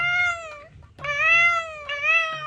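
A cat from a pet shop meows twice in long, drawn-out cries, close and clear, with a short pause between them and no talk.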